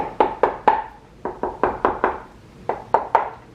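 Hollow knocking on the stock of a Ruger Ranch rifle: about a dozen sharp, close raps in uneven groups of two and three, each with a short resonant ring, alone with no talking.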